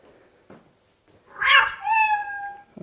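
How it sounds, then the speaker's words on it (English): A recorded cat meow plays from an electronic animal-sounds memory game, a drawn-out tonal cry after a couple of soft taps, clear and near with no talking. "Sound of a cat."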